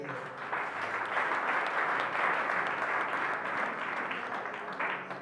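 Applause from a crowd at a Congolese political party ceremony installing a new committee in Selembao, a dense, sustained patter of clapping at moderate distance that holds steady for several seconds.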